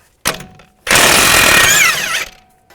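A short mechanical burst, then a loud sustained rattling blast of an air hammer on a suspension bolt of a 2010-2017 Chevrolet Equinox for over a second before it cuts off.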